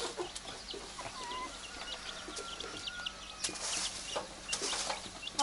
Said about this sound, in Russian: А куры у нас убегают вон в огород